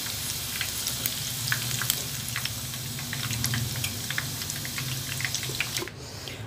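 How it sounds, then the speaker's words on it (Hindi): Egg fingers fry in hot oil over a medium flame, a steady close sizzle with scattered crackles and pops that runs throughout, then drops slightly near the end. "तेज़ आंच पे नहीं इसको फ्राई करना"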